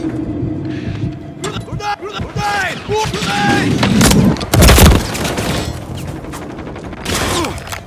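Gunfire in Call of Duty Modern Warfare III multiplayer: rapid shots, bursts and a heavy boom rattle close by amid chaotic battle noise, with voices calling out underneath.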